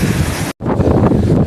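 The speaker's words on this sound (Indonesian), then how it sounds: "Anginnya kenceng banget." Strong, loud wind on a bad-weather hike up Mount Sumbing via Garung roars and buffets the microphone, dropping out for a split second before surging back.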